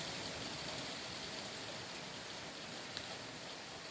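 Steady rain falls outdoors as a dense, even hiss with no breaks, fairly close and moderately loud, with no voices over it.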